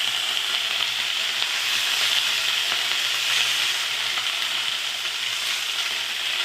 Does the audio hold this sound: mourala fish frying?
yes